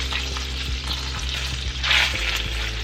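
Ham frying in melted butter in a skillet over medium heat, a close crackling sizzle with stirring scrapes and a brief louder burst near the end, no voices.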